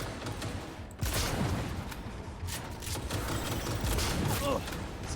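Gunfire in Cyberpunk 2077 during a fight with big robots comes as rapid volleys of close shots and mechanical clatter over dense game noise, with talk underneath.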